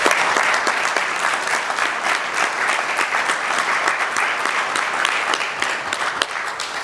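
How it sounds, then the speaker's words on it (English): A room full of people applauding at a philanthropy celebration, steady dense clapping sustained loudly throughout with no talk over it. "Give yourselves one more round of applause, please."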